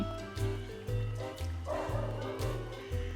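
A dog barks repeatedly and loudly close by at a steady rhythm, about five barks in three seconds, over a background of game audio during a Hello Kitty Island Adventure stream.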